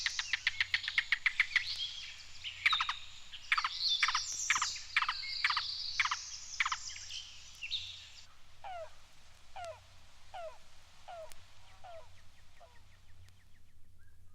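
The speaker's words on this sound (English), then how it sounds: "This is the yellow-billed cuckoo." Yellow-billed cuckoo calling: a rapid run of hollow knocking notes that slows into a series of spaced, descending clucks, close and clear over a low steady hum, with no other voices.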